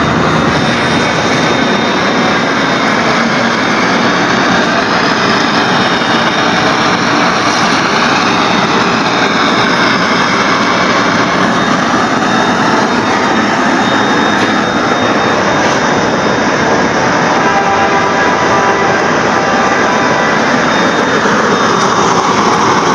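Homemade oil-burning stove roaring with a loud, steady, broadband whoosh like a jet burner, continuous and close throughout, with no talking.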